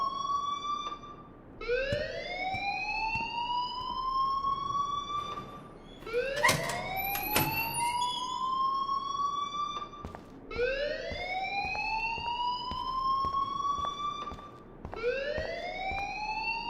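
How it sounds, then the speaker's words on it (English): A school alarm rings in the video game Life Is Strange, a rising, siren-like electronic wail that repeats in long sweeps with brief clanks between cycles and no talking. "please turn off that alarm since that's your job"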